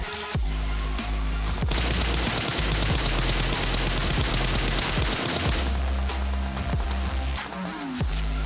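Dense automatic gunfire and rapid shots crackle in a battle inside the mobile game PUBG Mobile, loud and near, with continuous bursts and a few separate booms and shots near the end.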